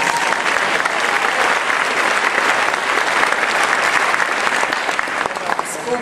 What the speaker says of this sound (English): Can give a round of applause.